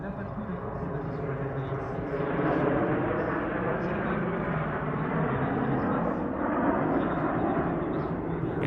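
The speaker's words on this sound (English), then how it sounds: "One final topside pass, the Patrouille de France bring to a close the Meaux Airshow 2022." Patrouille de France jets make a final topside pass at the Meaux Airshow 2022, giving a loud, continuous broadband roar that swells slightly midway and holds for several seconds.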